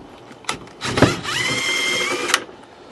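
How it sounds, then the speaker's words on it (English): Power tool fitted with a 22mm socket spinning on bolts on a VW Transporter seat swivel mount, a short rising whir with a couple of sharp clacks, close and fairly quiet. "We're going to remove these 4 bolts here, 22mm socket"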